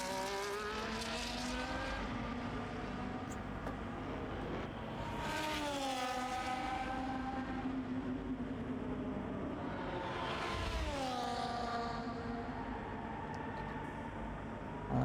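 A Ferrari race car drives the Miami track, its engine whining through rising and falling gear sweeps. The steady high-revving drone swells as it passes close, twice, then fades again, with no talking.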